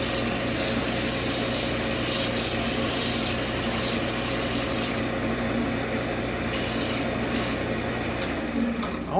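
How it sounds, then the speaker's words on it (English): Steady, harsh rasping from a power sander working the end of a forged railroad spike tomahawk, continuous and close throughout with a slight change in tone near the end. "We'll just use that to sand right on the end here."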